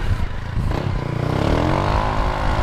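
A 2012 Honda CG 150 Titan Mix motorcycle with a Fortuna aftermarket exhaust and a worn-out clutch, its engine running steadily and then revving up, with the pitch rising over a rough, loud rumble.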